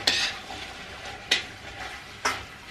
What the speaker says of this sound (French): Donc je tourne encore.